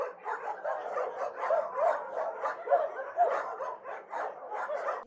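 Dogs among more than 100 animals evacuated from Myrnohrad near the front line to Dnipro bark and yelp continuously, several voices overlapping in a loud, dense, close chorus with no talk.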